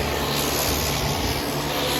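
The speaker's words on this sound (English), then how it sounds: "We gotta wait for the next two airplanes to come in." Steady roaring drone of a propeller airplane engine arriving, loud and continuous throughout, with no talking, heard from a beach in Alaska.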